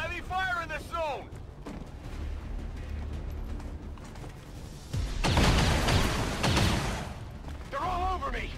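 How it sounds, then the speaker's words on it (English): Heavy gunfire in the video game XCOM 2: rumbling distant fire, then a loud burst of rapid shots and blasts midway, with someone talking at the start and end. "There's heavy fire in this zone."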